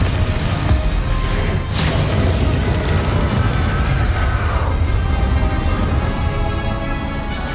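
Spell explosions from the Hogwarts Legacy video game erupt in a dense barrage of loud booms, crashes and whooshes, one sharp blast standing out near the middle, with no speech over the din.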